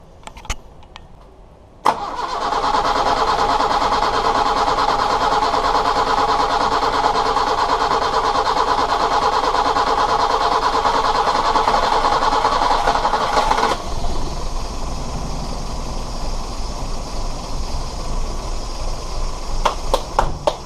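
A Toyota 4K engine fitted with a Weber 32/36 carburettor cranks briefly, then catches and runs at a loud, steady high idle, which settles lower near the end.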